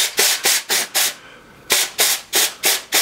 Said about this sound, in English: if you hold one of these air canisters upside down and spray it